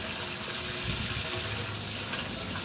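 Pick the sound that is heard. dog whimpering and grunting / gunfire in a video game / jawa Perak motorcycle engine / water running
water running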